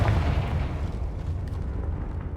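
A Confringo fire spell explodes in the Hogwarts Legacy video game, producing a dense, continuous booming roar that fills the short moment and fades only slightly.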